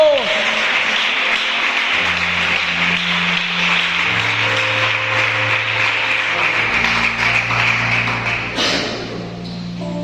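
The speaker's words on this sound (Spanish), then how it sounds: "le damos un aplauso a la palabra del Señor" Sustained applause from a church congregation, a dense wash of clapping lasting several seconds over a held organ or keyboard chord, tapering slightly at the end.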